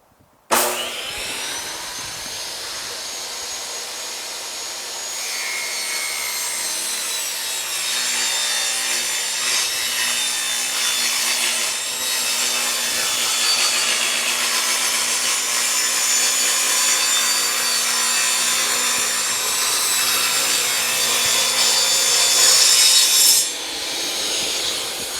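A saw cuts steadily through a wooden board to take its thickness down to 3/4 inch for a van bike rack, a continuous close rasping stroke that grows slightly louder before stopping abruptly near the end.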